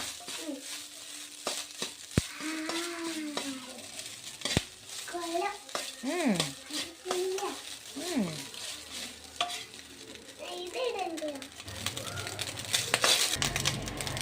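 Cooked rice is stirred and scraped in a pan for lemon rice, with soft intermittent clinks and light sizzle, while a child and an adult chatter over it in bursts of high-pitched speech.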